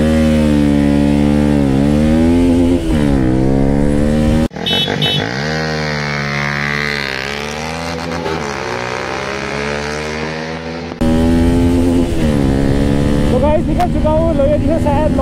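A Honda CBR 250R and a Kawasaki Ninja 300 race each other, their engines loud and close, revving hard and climbing in pitch through repeated gear shifts, with a somewhat muffled stretch in the middle before the full roar returns.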